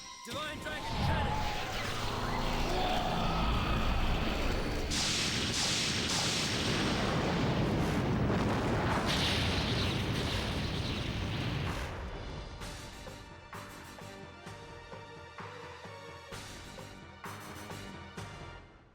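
A Divine Dragon Cannon attack in a video game boss fight erupts as a long, loud roaring blast with crashing impacts, then fades into music and lighter hits.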